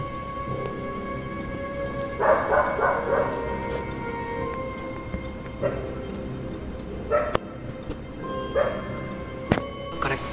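Dogs barking at night, with repeated bow-wow bursts and yips in short clusters, fairly close, over a steady hum of background noise.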